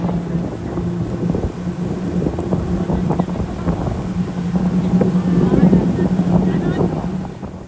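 Speedboat crossing from Gili Trawangan to Bangsal, a steady droning engine under rushing water, wind buffeting and hull slaps, loud and continuous throughout.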